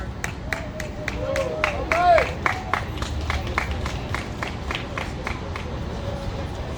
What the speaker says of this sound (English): Let's have a big round of applause for this victory